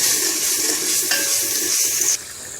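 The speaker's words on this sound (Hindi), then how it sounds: "अच्छी तरह मिक्स करेंगे इसे।" A spoon stirs cumin and dried coriander through a potato mixture in a hot pan, giving a continuous bright sizzle with scraping strokes. The sound is close and steady, with no talking.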